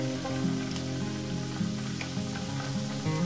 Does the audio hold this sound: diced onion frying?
yes